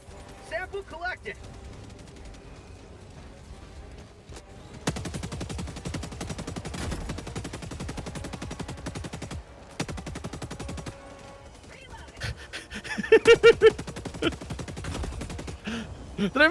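Rapid bursts of shotgun fire from a first-person co-op shooter, Helldivers 2, crack out in dense repeated volleys from about five seconds on, mixed with game effects and a voice talking.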